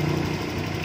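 Honda Vario 125 FI motorcycle engine idling steadily with slightly raised RPM during diagnostic scanning, a continuous low even hum close by with no talk.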